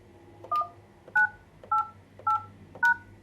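Five evenly spaced telephone keypad tones from a Yealink T53/T54W desk phone as a PIN is keyed in, each a short dual-pitched beep about half a second apart, clear and close over a faint hum.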